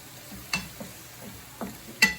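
Garlic frying in a pan is stirred in a quiet kitchen, with a few sharp scrapes and clicks of the utensil over a soft, steady sizzle.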